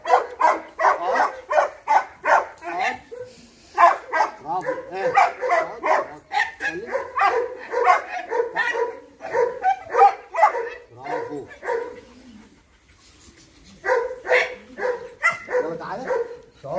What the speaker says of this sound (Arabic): كلب روتواير لسه في البدايه